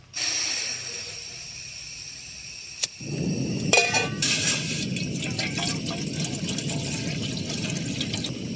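Water poured from a container at a stealth campsite on the Appalachian Trail on a stormy night, a steady hissing, splashing stream starting near three seconds and running on close and fairly loud, with a sharp clank just before.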